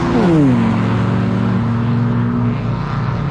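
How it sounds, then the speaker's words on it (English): A race truck's engine running at the Shannonville track, loud and close, its note dropping from a rev to a steady idle-like drone that holds throughout. "Let's listen to see how the truck sounds."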